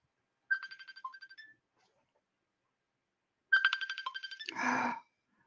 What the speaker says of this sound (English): with the phone ringing and everything